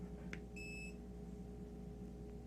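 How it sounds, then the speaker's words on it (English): A dog's training collar gives a single short, faint electronic beep near the start, followed by a low steady background hum. "So I'm just going to give Rain a beep."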